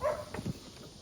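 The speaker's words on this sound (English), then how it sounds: "sorry about the dog in the background." A dog gives a couple of quick, short barks or yips, brief and fairly close, in an otherwise quiet moment.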